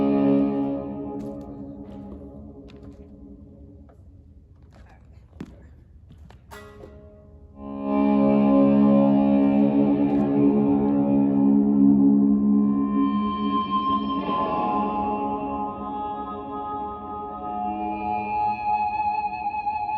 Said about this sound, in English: how awesome it is to get feedback out of a high gain kind of sound and really get that amp in a room kind of response